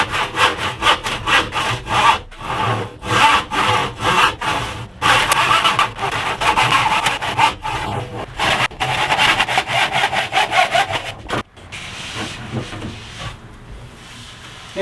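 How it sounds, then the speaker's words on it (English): A handsaw cutting wood during a school bus conversion, a fast, steady series of rasping back-and-forth strokes, close and loud, pausing briefly before the strokes resume more quietly. "Just get a handsaw the old John Henry way."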